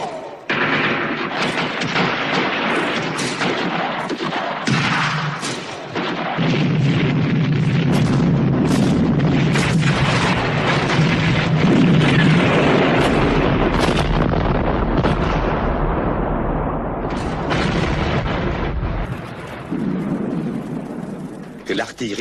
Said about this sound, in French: L'artillerie s'apprête à ouvrir le feu.